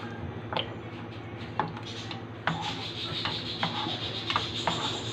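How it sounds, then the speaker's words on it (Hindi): A spoon scrapes and rubs repeatedly against a pan while thickening milk is stirred for a curdled-milk barfi, with steady rasping strokes and occasional sharper knocks over a constant low background hum, close and moderately loud. "इसको साथ साथ में चम्मच से हिलाती रहूँगी ताकि इसकी फुटकी जो है वो मिक्स होती रहे"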